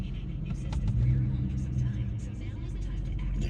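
A 2011 GMC Sierra with the 5.3 engine idles smoothly, a steady low rumble heard up close and continuous with no stumbles.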